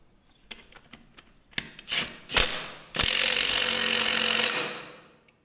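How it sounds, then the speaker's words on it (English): An impact wrench tightens a bolt, starting with a few sharp ratcheting clicks and short bursts, then a loud, sustained rattling hammer for about a second and a half before cutting off. "I'm gonna listen for the precise amount of ugga-duggas so that I know when it's tight"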